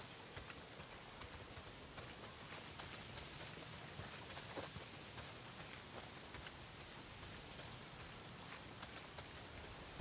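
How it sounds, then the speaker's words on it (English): Heavy rain pours down in the video game Days Gone, a dense, steady hiss of drops hitting surfaces that stays constant throughout, with no voices. "Well, not if it's pissing down rain."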